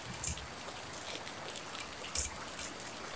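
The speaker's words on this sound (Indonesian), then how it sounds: "Hujannya makin deras ya" Heavy rain in the game Behind The Frame hisses steadily as a faint, even wash of noise, with a few soft drip-like ticks scattered through it and no one talking.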